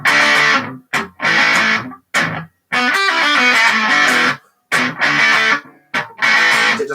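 Choppy bursts of electric guitar chords through fuzz distortion, played in short stabs separated by brief silences.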